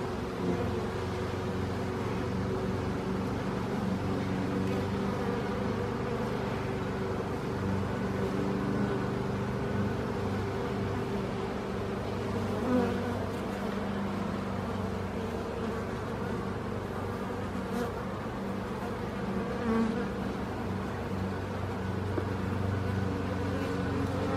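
A steady, dense buzzing of many honeybees around a hive fills the air continuously, close and even, with a low hum underneath and no talking.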